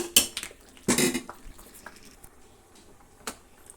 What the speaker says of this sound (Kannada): ಈಗ ನಾವು ಮುಚ್ಚಳ ಹಾಕಿ ಎರಡೇ ಎರಡು ವಿಜಲ್ಲು ಕೂಸ್ಕೊಳ್ಳೋಣ